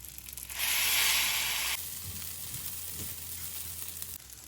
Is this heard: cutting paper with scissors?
no